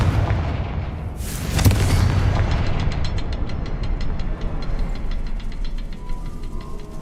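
A Confringo spell blast in the Hogwarts Legacy video game erupts as a loud booming explosion, followed by sustained rumbling and a rapid series of crackling, clicking impacts that carry on under dense game noise.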